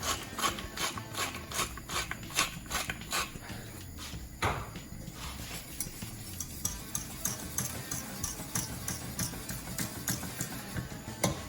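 Salt and pepper grinders cranked by hand over a cheesy layered bake sauce, giving a steady run of quick dry ticking and scraping clicks up close for several seconds, with no talk.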